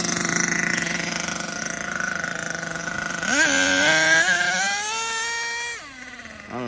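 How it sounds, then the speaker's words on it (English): HPI Savage 25 nitro RC monster truck with a slipping slipper clutch, its small engine buzzing, then revving up with rising whine, holding high, then dropping back to idle. "it sounds like the slipper clutch is slipping, even though I tightened it all the way up"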